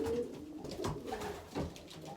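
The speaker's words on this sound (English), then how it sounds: "Okay, here's another bird." Pigeons coo softly and repeatedly at close range while being handled, low throaty calls rising and falling over a couple of seconds with faint rustling.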